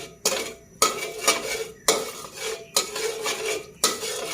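Shredded cabbage is tossed with fish sauce and sugar in a pan over high gas, a metal spatula scraping in about seven rhythmic, evenly spaced strokes over a faint sizzle, close and clear with no voices.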